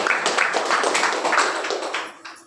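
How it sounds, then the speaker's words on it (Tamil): A crowd at a farmers' training session on dairy and agro processing claps in a burst of dense, fairly close applause that holds steady and then fades away. "கைத்தட்டுங்க. இன்னொரு கைத்தட்டு கொடுங்க."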